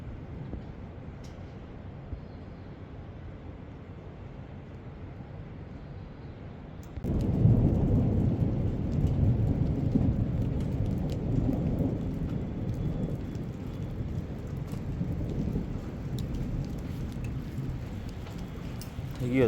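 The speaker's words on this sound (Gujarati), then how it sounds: "હમણાં તો છે તમને અવાજ કડાકા ભડાકાનો." Thunder and rain in Noida in the early morning: a quiet stretch gives way to a sudden heavy rumbling roll of thunder with a steady wash of rain that persists loudly to the end.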